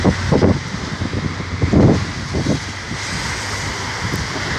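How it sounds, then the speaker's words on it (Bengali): Steady heavy roar of rain and gusting wind lifting light dust, loud and close, with rumbling low buffeting bursts against the microphone. "জোরে জোরে বৃষ্টি পড়ছে আপনারা দেখতে পাচ্ছেন বৃষ্টি আজ অনেক বৃষ্টি পড়ছে সে সাথে বাতাস"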